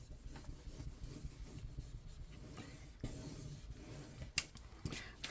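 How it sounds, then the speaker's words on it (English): Scored paper lines on a wedding album craft project rubbed down with a burnishing tool, giving quiet, repeated scraping strokes with a few sharper ticks, close and unaccompanied by speech. "then you can give this a good burnish"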